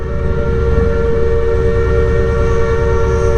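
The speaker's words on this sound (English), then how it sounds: "That's the little steam train that they do during tourist season every year." A loud, steady tourist steam train with a sustained tonal whistle over a deep rumbling engine, continuous and close throughout.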